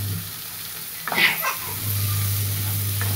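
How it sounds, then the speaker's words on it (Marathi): Chopped tomatoes dropped into hot masala in a pan give a burst of sizzling and stirring, then a steady frying hiss settles in, close up and alone. "टमाटर टाकून चांगलं परतायचं आता ह्याला"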